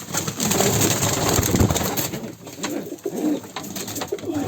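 A Kara Kanat pigeon held in the hand coos in low, rolling, repeated calls, close and fairly loud over steady background hiss.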